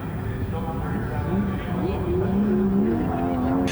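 Nissan R34 drift cars battle at a D1NZ drift round in Christchurch, engines revving and wailing with tyres squealing throughout, while a commentator talks over them.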